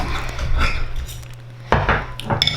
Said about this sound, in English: Let's have a look at the steak bake now. Let's cut this in